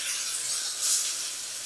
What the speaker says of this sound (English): I'm frying this on about medium right here